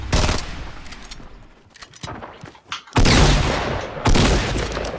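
Gunfire in the video game Fortnite Battle Royale, with a heavy shotgun in use, comes as loud, dense bursts of blasts and rattling shots in several waves, with quieter gaps between them and no talking.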